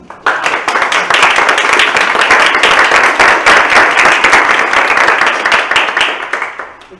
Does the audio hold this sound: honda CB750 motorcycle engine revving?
no